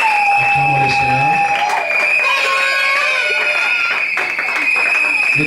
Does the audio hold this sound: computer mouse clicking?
no